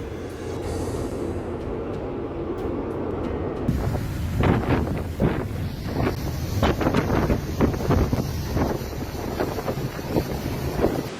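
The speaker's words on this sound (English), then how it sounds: "witness waves as high as tall buildings and crazy howling winds battering the coast" Howling storm winds roar across the microphone with a heavy, continuous rumble as huge waves batter the Irish coast, surging crashes breaking in repeatedly after the first few seconds.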